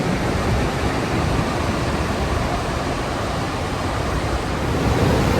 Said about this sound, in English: and there's the beach.